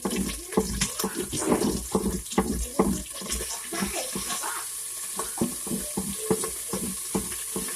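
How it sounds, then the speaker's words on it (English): A spoon stirs yellow rice with pigeon peas in a pot, producing wet scraping and sloshing strokes in an irregular rhythm over a faint sizzling background, close and moderately loud, with no speech. "You keep stirring."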